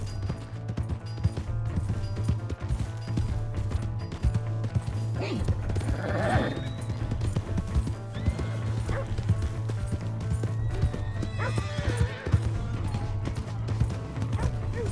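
Hooves clip-clop in a quick galloping rhythm with an occasional whinny in Red Dead Redemption 2, set against a steady low game soundtrack hum; a brief voice is heard.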